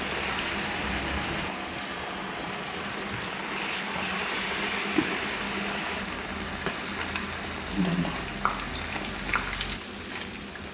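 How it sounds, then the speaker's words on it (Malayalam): Modakam dumplings frying in hot oil, a continuous close sizzle and crackle with occasional small pops and a few light clinks of a utensil stirring. "എണ്ണയൊക്കെ തിളച്ച് വേണ്ട ഇങ്ങനെ ഓരോന്നും ഇങ്ങനെ എടുത്തിട്ട് അതിലോട്ട് ഇട്ട് കൊടുക്കാം."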